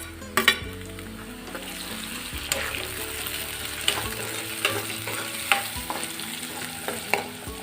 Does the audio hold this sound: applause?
no